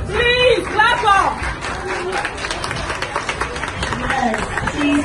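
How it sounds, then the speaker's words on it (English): An audience at a gathering clapping in a brisk burst that thins out, mixed with lively chatter and voices calling out over the claps. "Please, clap up!"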